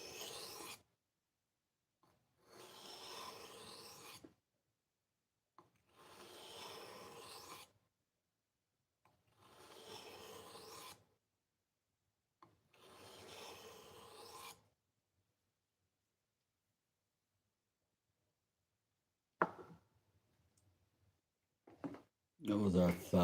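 Steel blade stroked over a 1000 grit whetstone in five long, even rasping passes with quiet gaps between them, close by, then a few brief knocks near the end.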